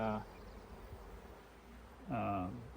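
Honey bees buzzing while being moved into a nuc, a faint close drone with short louder buzzes at the start and end of the clip.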